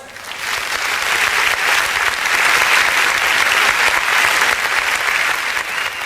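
Loud, sustained applause for children at a Diwali celebration in a community hall, many hands clapping together in a continuous even roar that swells a little midway and stays strong for six seconds.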